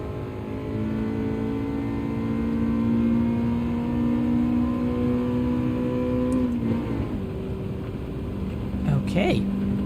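A car engine in Gran Turismo 7 drones with a steady, tonal hum that climbs and shifts pitch partway through, with a brief higher whine near the end.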